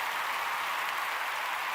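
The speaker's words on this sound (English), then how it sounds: "you're drowned out by your own claps" Steady hand clapping from a small group of people reacting to a Memphis 901 FC soccer match, a dense continuous patter with no clear gaps, fairly loud and close.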